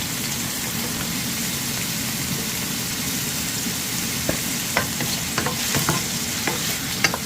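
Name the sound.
fish frying in a pan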